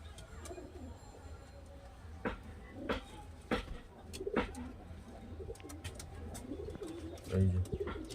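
Murshidabadi Giribaz pigeons coo in low, soft, repeated calls, fairly close, amid faint background noise, with someone talking intermittently.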